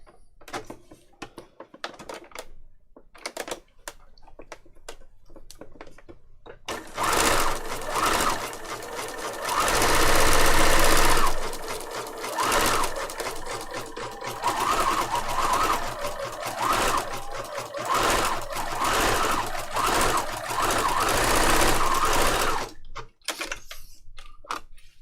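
A sewing machine zigzag-stitches across fabric tags, starting with scattered clicks, then running loud and continuous for about fifteen seconds with rapid rhythmic needle chatter before stopping.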